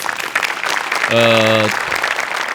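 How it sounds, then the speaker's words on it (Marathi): A comedy show audience breaks into applause, a dense wash of clapping under a brief sustained tonal musical note near the middle, with no talking in between. "आज विशेष करून सेटिंग आणि म्युझिक डिपार्टमेंटसाठी टाळ्या वाजवल्या पाहिजेत"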